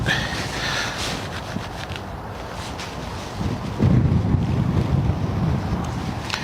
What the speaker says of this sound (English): Tis an ill wind blowing here this morning